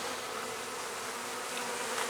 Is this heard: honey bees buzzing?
yes